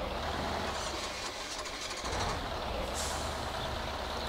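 A heavy truck in the off-road game Spintires parks, with a dense, loud wash of engine rumble and hissing air-brake release filling the whole stretch, no voices over it.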